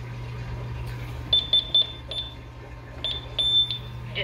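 A new Honeywell alarm system keypad gives a string of short, sharp electronic beeps, first three quick ones, then a pause and a second burst ending in a longer tone, over a steady low hum.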